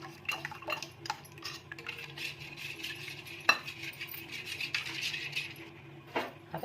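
A spoon stirring and scraping in a pot as a mixed ice cream batter is added to milk, with soft irregular clinks and a gentle liquid swish, close and quiet, no voices.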